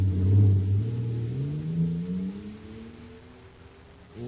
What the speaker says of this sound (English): Listen to that fire-controlled jet car go now.